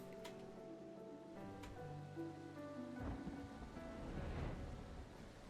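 A thunderstorm with rain in the video game Final Fantasy 14: steady rainfall with rolling, rumbling thunder swelling through the middle, fairly quiet with no talking.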